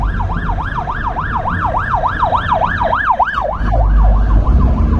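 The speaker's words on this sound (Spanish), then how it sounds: "viene la ambulancia" A wailing ambulance siren sweeps up and down in rapid regular cycles, loud and close, fading as heavy engine rumble rises at the end.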